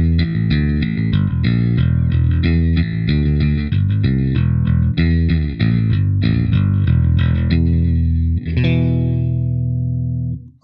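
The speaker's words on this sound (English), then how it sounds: "If you're a rock guy, you might want to play with a pick for aggressive tones." A distorted PRS SE Kingfisher electric bass plays a driving run of pick-struck notes with a sharp attack, ending on a sustained ringing note.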